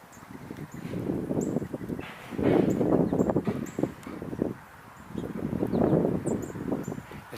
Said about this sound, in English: there's a little bit of a breeze right now, and that's actually interfering a bit with my hearing